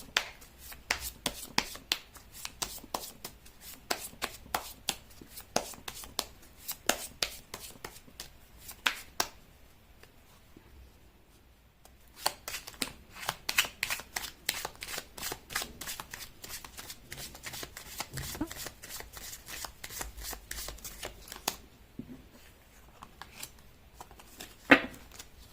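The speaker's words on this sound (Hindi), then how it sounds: "मैं कर लेती हूँ कार्ड की शफलिंग" Tarot cards shuffled in repeated bursts of crisp riffling and flicking, close and fairly quiet, with a short pause midway and no talking.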